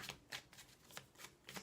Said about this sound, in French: on va couper les cartes